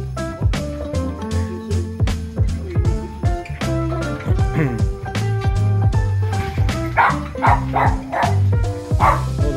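Several dogs bark and yip excitedly, close and loud, with whimpers and high yelps overlapping in a busy, continuous stream while people talk now and then in the background.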